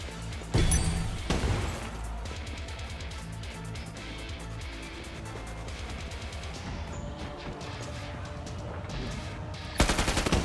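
Loud, sustained automatic gunfire from shooting zombie enemies in the video game Killing Floor 2, with dense rapid bursts running through most of the stretch and a sharp heavier blast near the end.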